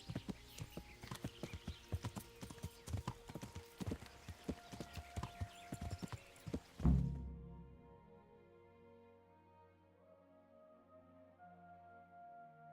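Horse hooves clip-clop in Kingdom Come Deliverance 2, a steady close run of hoofbeats that stops abruptly, followed by a quiet low ambient tail.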